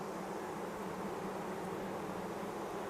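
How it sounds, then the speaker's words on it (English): Honeybees near their queen fanning their wings with abdomens raised, a steady, dense, soft buzzing drone that stays constant without breaks. "we've got little bees here with their abdomens up in the air, flapping her wings madly"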